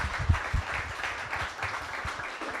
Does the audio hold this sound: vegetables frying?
no